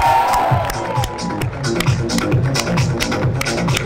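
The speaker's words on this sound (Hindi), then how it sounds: "एक जोरदार ताली आप लोगों के लिए बनती है।" An audience at a JEE Mains results celebration at a coaching academy claps and cheers loudly, with a dense, steady burst of applause and scattered whoops and voices in the crowd.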